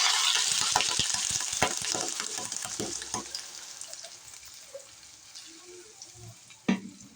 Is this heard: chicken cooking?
yes